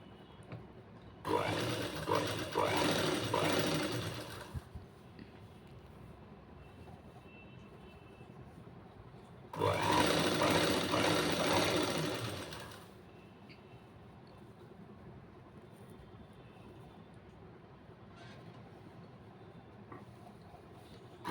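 A sewing machine stitches computer-work embroidery around a long neckline, running in two steady whirring bursts of a few seconds each with a quiet pause between them.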